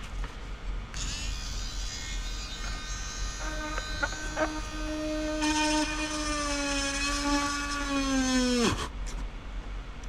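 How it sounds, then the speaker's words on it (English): An electric drill whirs close by, its motor pitch climbing and straining as it bores, then cutting off abruptly near the end. "So, drill a new hole."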